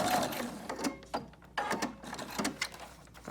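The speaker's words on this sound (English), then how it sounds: "I'm gonna back stitch again" A sewing machine back stitching fabric for a homemade dust mask: short bursts of rapid mechanical stitching with brief pauses between, close and fairly quiet.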